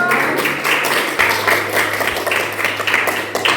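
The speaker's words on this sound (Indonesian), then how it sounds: "Tepuk tangan untuk kelompok." Classmates clap for a student group in a classroom during a teaching session, a steady patter of hand claps running the whole time with a low electrical hum underneath.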